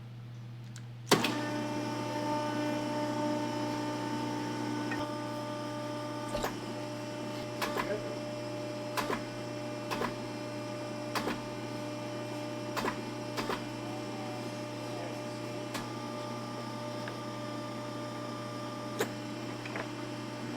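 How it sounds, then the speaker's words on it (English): A tube bender works aluminum radiator tubing for a sandrail, with a steady motorized hum running throughout and sharp clicks and knocks recurring every second or two at close range. "See how this bender bends aluminum."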